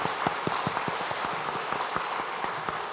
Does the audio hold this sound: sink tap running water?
no